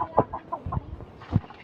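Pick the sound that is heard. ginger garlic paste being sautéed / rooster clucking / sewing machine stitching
rooster clucking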